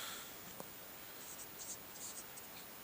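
Chalk or a marker moves across a board during a maths lecture on heights and distances, making faint, scratchy writing strokes in a quiet room with no talking.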